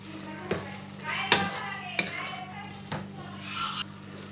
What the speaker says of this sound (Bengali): আবার নেড়ে দেব।